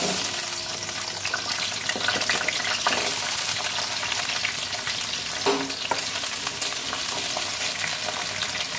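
Bay leaf, two cardamom pods and a cinnamon stick frying in hot mustard oil, a steady bright sizzle with light crackling and occasional stirring, close and continuous.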